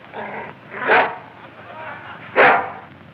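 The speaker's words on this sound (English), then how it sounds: "Get that dog out of this courtroom." A dog gives two barks inside a courtroom, spaced about a second and a half apart and moderately close, with a background of noise and voices.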